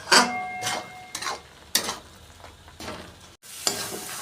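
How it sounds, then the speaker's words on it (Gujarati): Thick date chyawanprash mixture stirred continuously in a pan as it cooks, with repeated scraping and gentle sizzling strokes at a steady rhythm, close and fairly clear with no talking. "આ રીતે સતત હલાવતા રહેવાનું છે કે જેથી કરીને નીચે એ"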